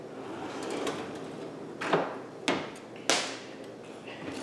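A kitchen drawer slides open and shut several times with sharp wooden thuds and rattling, close by, over a constant background hiss.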